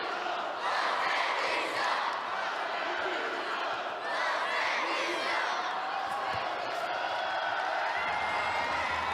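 Dense, loud judo tournament crowd cheering and shouting throughout at the Tashkent Grand Slam, a continuous roar of spectators rising and swelling for a home-country fighter, with commentary voices under it.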